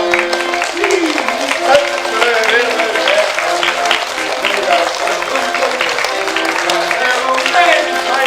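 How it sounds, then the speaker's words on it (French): Wedding guests in a theatre play applaud in a dense, steady wash of clapping that fills the whole stretch, loud and close, with no voices standing out. "Et tous les invités applaudissent."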